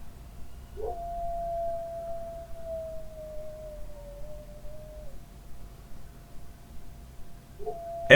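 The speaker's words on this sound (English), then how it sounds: "The dog howling" A hound lets out a long, sustained howl that wavers slightly and fades, followed by a short yelp, with quiet background noise.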